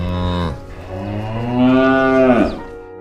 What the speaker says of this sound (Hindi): तभी उसकी भैंस जोर जोर से चिल्लाने लगी।